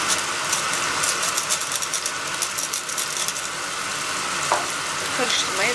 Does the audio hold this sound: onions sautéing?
yes